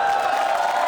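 Studio audience at a comedy show bursting into steady applause with cheering, a dense continuous roar of clapping filling the short moment.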